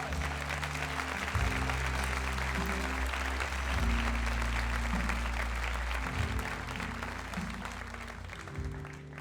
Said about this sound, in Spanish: Denle un aplauso a nuestro Señor Jesucristo.